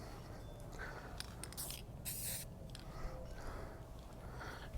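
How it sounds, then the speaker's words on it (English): Suspension spray hisses from an aerosol can onto mountain bike fork stanchions in a few short, faint bursts against a low background rumble. "you spray it on your stanchions, and it keeps them from getting all sticky and stuff."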